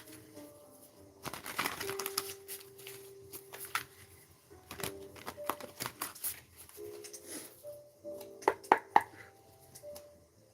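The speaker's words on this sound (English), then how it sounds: "A couple more shuffles." Tarot cards are shuffled close to the microphone in quiet bursts of soft riffling and flicking, with a few sharper taps near the end and pauses between.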